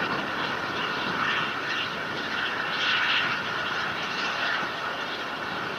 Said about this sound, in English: Following the liftoff, the operation control of the H2A has been switched from Yoshinobu Blockhouse to